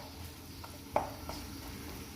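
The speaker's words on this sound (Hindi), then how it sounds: "अब ऑयल के अंदर मैं ऐड करूँगी 3 प्याज।" Three medium onions, sliced, frying in hot oil for chana biryani give a steady low sizzle, with a single sharp stir clack near the middle and faint spoon scrapes after.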